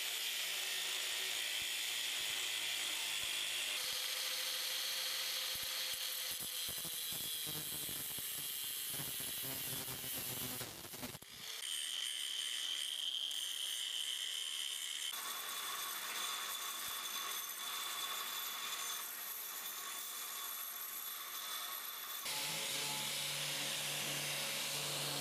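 A steel pipe nipple is cut short before being welded onto a rainwater barrel. A harsh, continuous cutting noise fills the whole stretch, with rhythmic rasping strokes in the middle and abrupt shifts in tone.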